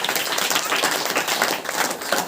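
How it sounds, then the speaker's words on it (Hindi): A church congregation claps during a worship service, a dense, steady patter of many hands that fills the room for a couple of seconds, loud and close. "ताली बजाकर परमेश्वर को"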